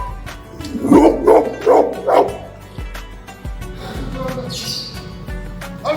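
Large pet dog barks loudly four times in quick succession close by, followed by quieter yips and whimpers.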